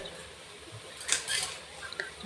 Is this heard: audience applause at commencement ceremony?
no